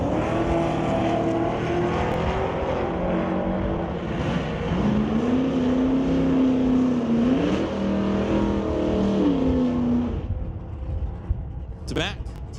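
Chevy Nova and S10 drag race cars launching at a drag strip, a loud sustained roar with rising and falling engine pitch, a commentator's voice heard over the racket.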